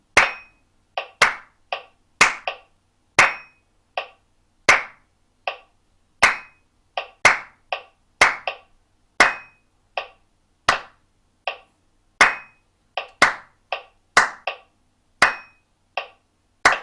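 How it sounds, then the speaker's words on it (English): Hands clap a two-bar rhythm during a C melodic minor warm-up, crisp sharp claps in a repeating syncopated pattern, close and clear against silence, looped several times. "Now I'm going to clap both bars, those last 2 bars."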